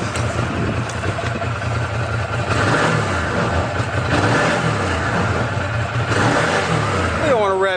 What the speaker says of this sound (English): We don't want to rev it too much. It's a brand new bike, no load on the motor